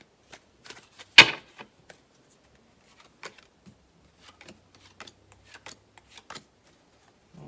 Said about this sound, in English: Now, Scorpio, we're going to draw 5 cards.